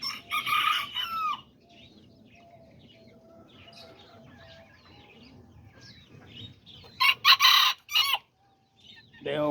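Roosters crow loudly at the start and again near the end, with Azteca hens and roosters clucking and chirping steadily in between, fairly close by.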